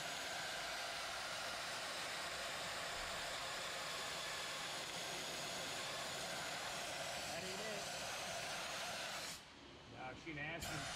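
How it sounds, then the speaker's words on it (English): A Dry Ice Champ Turbo dry ice blaster cleaning tar buildup from a vehicle undercarriage. It gives a loud, continuous, broadband hiss that runs almost the whole time and cuts out briefly near the end. "painted surfaces that can be cleaned safely and effectively with the dry ice system"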